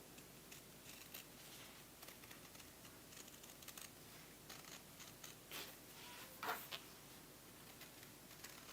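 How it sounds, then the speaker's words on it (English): Sharp fabric scissors snipping through cloth along a drawn line for a textile wall hanging, a faint, sparse run of quiet clicks and crisp cuts in a still room. "So we just cut out now around the shape"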